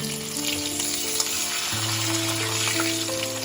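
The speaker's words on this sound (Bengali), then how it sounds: "মাথাগুলো ভাজা হয়ে গেছে, এবারে আমি এই মাছের মাথাগুলো তুলে দেব।" Katla fish heads frying in hot oil give a steady, close, crackling sizzle that runs unbroken throughout, with no one speaking.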